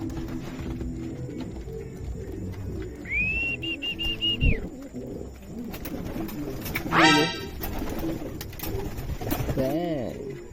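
Pigeons coo softly close by while feeding, with a rising whistle-like call and a bright chirp breaking through the murmuring background.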